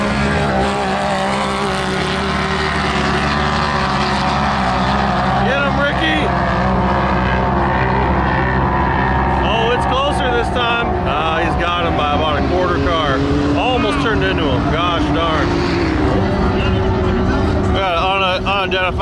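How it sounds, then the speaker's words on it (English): A loud, steady aircraft rotor and engine drone fills the whole stretch, with people talking and shouting over it. "It's a helicopter."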